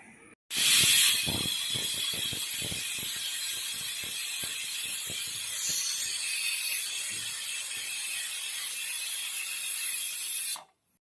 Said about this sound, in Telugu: ఐదు ఇజిల్లు వేసింది వేసిన తర్వాత ఉడికిపోయింది పప్పు